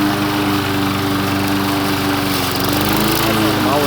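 A Victa four-stroke lawn mower cuts grass thick with old winter growth, its engine droning loud and steady up close throughout.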